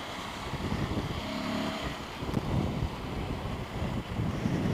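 Wind roars across the microphone while riding a custom Ducati Scrambler 1100 Sport, a dense continuous rushing buffet with low rumble that swells and eases slightly, loud and steady with no talking.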